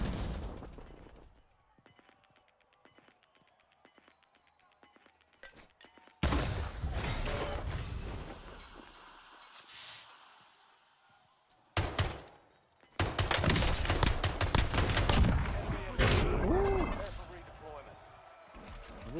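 Call of Duty Warzone match with a grenade thrown, then loud blasts and bursts of gunfire in irregular clusters, separated by quieter stretches with sparse taps and someone talking.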